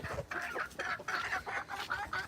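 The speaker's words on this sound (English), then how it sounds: "there's some of the chickens, some of the roosters." Chickens and roosters cluck in a busy run of short, overlapping calls, fairly close and moderately loud.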